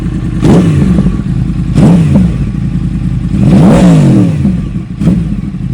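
Yamaha R1 motorcycle engine revving up hard in repeated loud bursts, about four sharp throttle blips and a longer rising rev, close by with no talking, the engine running again after recovery.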